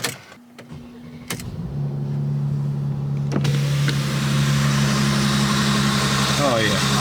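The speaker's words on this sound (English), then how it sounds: "I love a cold start in this car." A Mercedes-Benz C450 AMG starting from cold: a brief whir from an electric window, then the engine catches and settles into a steady, loud high idle, with someone speaking over it.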